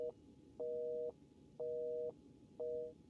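A telephone busy signal in Resident Evil Village repeats its steady two-tone beep in even half-second bursts separated by short gaps, clear over a low hum, with no one speaking.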